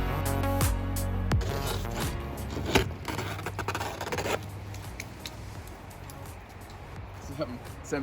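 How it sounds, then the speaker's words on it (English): House wrap being cut on a custom home build, with sharp slicing strokes and crinkly rasping of the sheet up close, followed by softer rustling and scraping handling sounds. "Some ASMR with the cutting."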